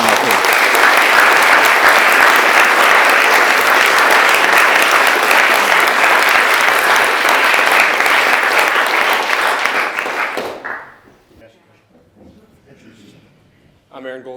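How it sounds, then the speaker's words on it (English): Lecture audience giving a loud, sustained round of applause in a hall, close and dense for about ten seconds before stopping abruptly, followed by a quiet gap and a voice starting to speak. "A round of applause for Marc."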